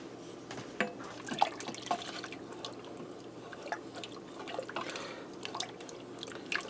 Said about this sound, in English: Let me grab a big spoon and stir that.